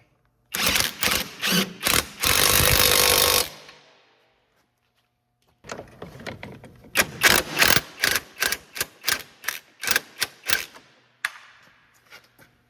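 A ratchet wrench tightens a bolt on the lower ball joint of a 2003-2007 Honda Accord, with a quick burst of clicks followed after a pause by a long series of rhythmic, close ratcheting strokes.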